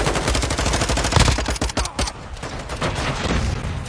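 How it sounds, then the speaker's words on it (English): Rapid SMG bursts in a video game, dense rattling volleys of shots at a fast, even rhythm, loud and close, with a brief lull midway before the firing resumes. "Which gun is that? That's a SMG, right?"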